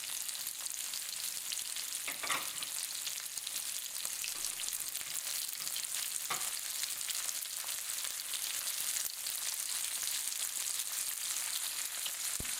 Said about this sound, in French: quand le poivron est un peu cuit, j'ajoute des crevettes.